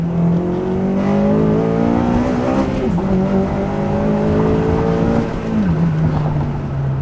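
A Honda Civic with a swapped LS engine pulling hard under acceleration, a loud steady engine drone climbing in pitch through the gears with brief dips at each shift, heard from inside the car.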